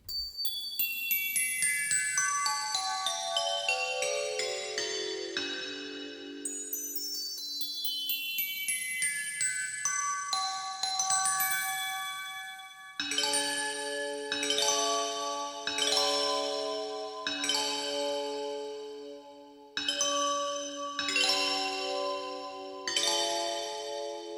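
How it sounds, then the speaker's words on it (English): Bright glockenspiel sample tones on a Waldorf Quantum synthesizer ring out in quick descending runs, then repeated chimes with long shimmering decays, clear and close with no voices. "this is a glockenspiel set of samples"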